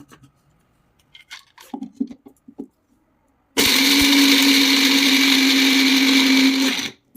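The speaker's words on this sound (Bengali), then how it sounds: "আমি আগেই 50 গ্রাম কাজু ওজন করে নিয়েছিলাম, সেটা এখন গুঁড়ো করে নিচ্ছি।" Sparse handling clatter, then an electric blender starts abruptly and grinds 50 grams of cashews into powder with a loud, steady, high-pitched whir for about three seconds before cutting off.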